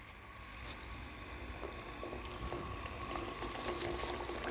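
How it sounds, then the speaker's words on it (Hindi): Battered naan pakora fries in hot oil with a steady, even hiss and bubbling throughout, soft and close, with no one speaking. "इसे 3 से 4 मिनट के लिए अच्छी तरह फ्राई करेंगे"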